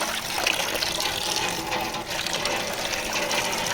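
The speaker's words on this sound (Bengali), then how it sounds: "চাপা কলের মধ্যে মাছটা ধুয়ে নিচ্ছি" Water from a hand pump splashes steadily over a fish being washed outdoors beside a garden, a continuous broadband gush with no pauses.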